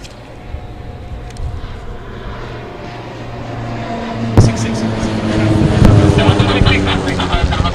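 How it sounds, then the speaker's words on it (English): Helicopter engine drone builds steadily and grows louder overhead during an Independence Day celebration flypast, with a low rotor rumble and bursts of wind noise. "we see the helicopters."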